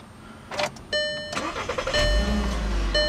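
A 2011 Volkswagen Jetta SEL's 2.5-liter five-cylinder engine starting: the starter motor whirs briefly with electronic chimes, then the engine catches and settles into a loud, deep idle.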